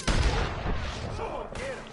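Gunfire in Red Dead Redemption II: a loud close burst of shots opens, then further shots and rumbling under a voice, with someone talking through it.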